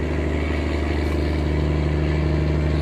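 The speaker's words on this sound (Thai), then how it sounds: "เสียงของเครื่องยนต์ท่อไอเสียเสียงเทโบ" A steady, droning tugboat engine and turbo exhaust rumble continuously with a deep, throbbing low hum and no voices, loud and close throughout.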